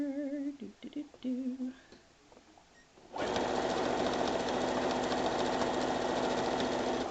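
A sewing machine stitches a quilt strip, starting after a few seconds of quiet room sound and then running steadily and loudly at close range without pause.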